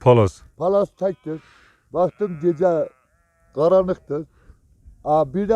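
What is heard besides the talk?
No everyday noise stands out behind the speech.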